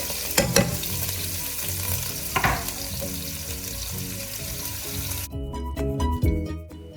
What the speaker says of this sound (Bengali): তারপর কড়াইতে সেই একই তেলের মধ্যে গরম মশলা, গোটা জিরে, শুকনো লঙ্কা ফোড়ন দেওয়ার পর একটু আদা বাটা আর পেঁয়াজ দিয়ে ভালো করে নাড়াচাড়া